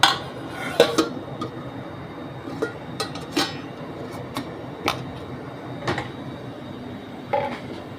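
Metal tiffin box holding hilsa fish with poppy seed gets its lid pressed on, a string of sharp metallic clinks and taps spaced across several seconds, close and crisp over quiet kitchen background.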